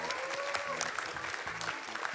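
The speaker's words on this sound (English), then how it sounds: "Give him a round of applause," Audience applause fills a speedrun event hall, a steady wash of clapping from a sizeable crowd that runs the whole short span, with some faint voices mixed in.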